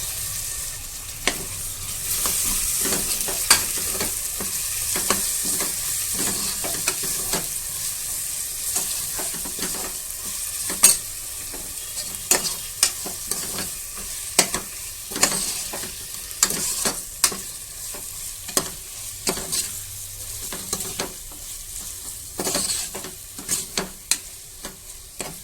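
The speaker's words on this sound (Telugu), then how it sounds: "ఇప్పుడు ఇందులో చికెన్ వేస్తున్నా." Chicken pieces frying in oil in a pan for a pilaf, a steady loud sizzle broken by frequent sharp scraping stirs, close up and without voices.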